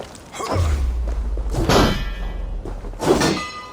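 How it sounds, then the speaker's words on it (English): A large bell struck in the video game Assassin's Creed Valhalla, booming clangs that ring out twice with a long metallic resonance, loud and close amid a low rumbling game backdrop. "Let's ring the bell!"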